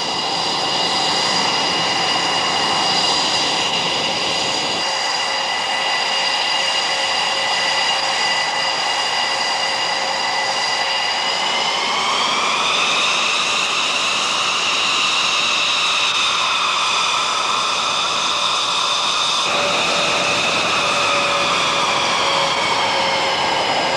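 Engines of a Northrop YF-23 Black Widow II fighter jet run during a taxi test. They give a loud, sustained turbine whine with layered tones that shift upward midway and then hold steady.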